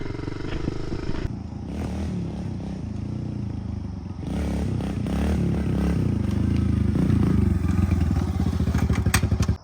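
A Kawasaki KLX110 dirt bike engine drones loudly and steadily while climbing a hill, the revs building toward the end, with some clattering and thumps from the terrain.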